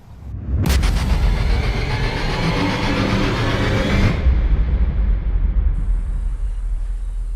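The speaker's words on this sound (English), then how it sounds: "Just get in, fire a rocket, and enjoy the fireworks." A rocket fires in the zombie video game Arizona Sunshine with a sudden loud whoosh, followed by a sustained rumbling roar of blast and debris that fades into a lower ongoing rumble.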